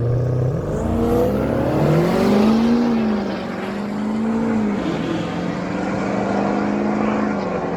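A Chevrolet Camaro and a Ford F-250 drag racing side by side at a no-prep dragstrip, engines roaring loud and close with a rising, sweeping pitch as they accelerate down the track, then a steady high-revving drone.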